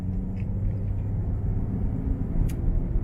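A Chrysler 300 car on the road gives a steady low rumble of engine and road noise, heard as if from inside the cabin, continuous and fairly loud, with no talking.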